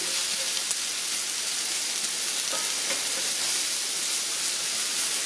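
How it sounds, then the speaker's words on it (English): Okra searing in a hot skillet over intense heat gives a steady, even sizzle that holds at the same level throughout, with a few faint stirring clicks and no talking. "So I'm going to dump my okra in there."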